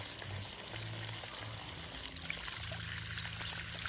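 Water trickling and splashing faintly as a child plays in it outdoors in Oaxaca, a soft, continuous dribbling under a low hum with occasional small spatters.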